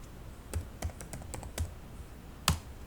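Keys are tapped on a computer keyboard to enter a Python command at a command prompt. A few soft, separate clicks are heard close by in a quiet room, ending with a firmer keystroke.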